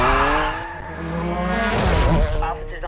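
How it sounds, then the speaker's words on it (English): Truck engine and tire sounds play in Need for Speed Undercover on the Wii: a loud, continuous drone of vehicle noise with a rising pitch and a squeal-like swell near the end, alongside talk. "What were those random truck sound effects?"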